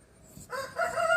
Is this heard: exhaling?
no